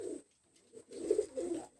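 A Teddy Kamagar Golden pigeon coos softly in a few short, low throaty bursts, with a brief pause after the first and two quick calls near the end, close and quiet with no talking.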